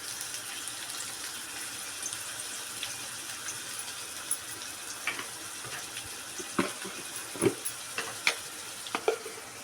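Ground spices, coriander powder, Kashmiri red chili powder and a homemade masala, are mixed together in a pan for a simple Maharashtrian roasted-eggplant bharit, with quiet scraping and soft clicking strokes over a low background hiss.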